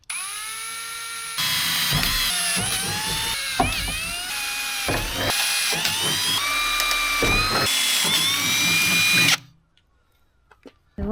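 A power drill bores rapidly into a Mercedes Sprinter van during a camper build, whining loudly and continuously with shifting pitch and speed changes before cutting out abruptly into near silence.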